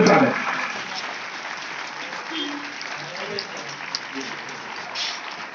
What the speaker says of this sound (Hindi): खड़े हो जाइए आप लोग, जोरदार तालियों से स्वागत।